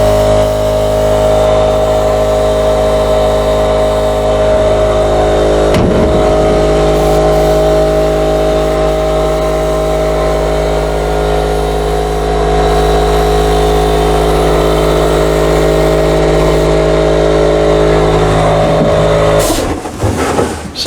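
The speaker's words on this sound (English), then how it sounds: "We got the air compressor. Had to bring it in here." An air compressor running indoors during a budget repair of a rotten wall, after freezing up outside; a loud, steady mechanical hum with constant tonal drone, a brief jolt near six seconds and a shift in pitch near the end, no talking.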